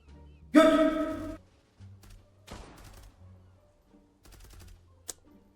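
Gunfire in the Zula online shooter game: a loud, dense automatic burst of about a second, then a few scattered shorter bursts and a sharp single shot, over low background game noise.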